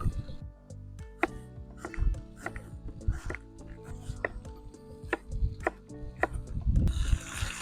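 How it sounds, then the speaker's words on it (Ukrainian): A knife chops onion into half rings for a lamb and vegetable dish cooked on a sadzh, making a steady series of close, crisp taps against a board. "цибулю нарізаємо на півкільця"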